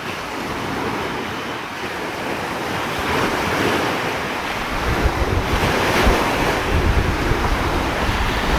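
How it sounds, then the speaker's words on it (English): Waves washing onto a Lake Michigan beach at a county park campground, a loud continuous surf roar mixed with heavy wind buffeting the microphone. "It's a county park with a really large campground, and they have a nice beach here."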